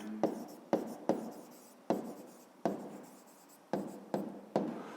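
Handwriting strokes from a fifth-grade math lesson on triangles: a pen or chalk taps and scratches in about eight distinct strokes at an irregular rhythm, each a sharp onset that fades, close and fairly quiet, with no talk over them.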